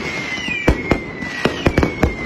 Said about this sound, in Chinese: 然后就带着孩子们去看烟花